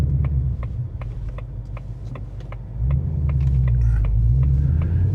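Deep, steady V8 rumble from a 2025 Ford Mustang GT with its Coyote engine, a low throbbing drone that swells louder partway through, with faint ticking above it and no voices.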